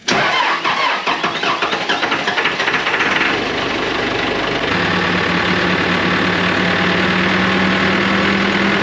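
An old tractor engine starts with a rough, chugging crank, then settles into a steady, loud idle with a low rhythmic knock as it warms up indoors.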